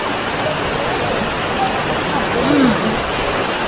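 A freezing waterfall in Marrakech flows in a dense, constant rush of white noise at close range, loud and unbroken.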